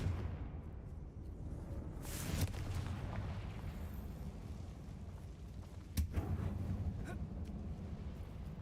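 Confringo fire spell blasts cast in Hogwarts Legacy: two muffled booms, one a couple of seconds in and another near the six-second mark, over a constant low rumbling ambience.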